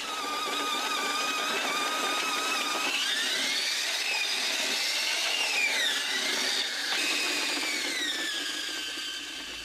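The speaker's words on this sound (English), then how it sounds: "The miners are constantly drilling new holes for explosives" A steady, high-pitched mechanical whine of drilling holes in rock for explosives in an opal mine tunnel runs throughout, with shifting pitch and a constant gritty buzz, loud and close.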